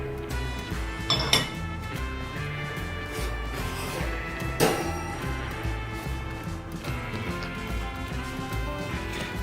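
Clattering of a plate being lifted off a dish taken from a microwave, with a few sharp ceramic clinks and knocks standing out over a steady humming background, close and fairly quiet.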